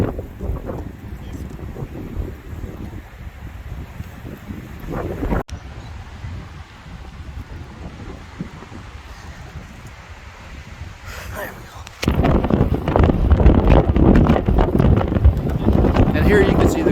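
Wind blows outdoors in steady broadband gusts, rising noticeably louder in the last few seconds, with some buffeting against the microphone throughout.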